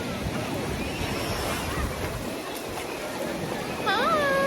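Surf at Mehdia Beach in Kenitra, Morocco: a steady wash of ocean waves mixed with wind buffeting the microphone, with faint voices in the background and a few brief whistle-like tones near the end.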